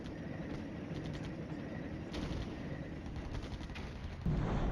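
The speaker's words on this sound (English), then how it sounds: "So our artillery is starting to fall." Artillery fire in the Flashpoint Campaigns war game, heard as a steady, dense rumble of distant shelling and gunfire with scattered sharper impacts and a louder burst near the end.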